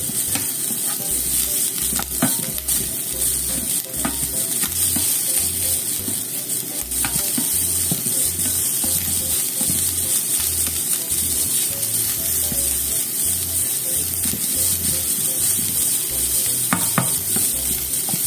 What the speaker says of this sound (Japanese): 炒めますね